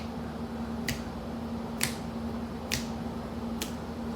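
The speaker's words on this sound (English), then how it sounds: "I don't know why I'm snapping my fingers" Four crisp finger snaps spaced evenly about a second apart, close and sharp over a faint steady hum of background noise, with no talking.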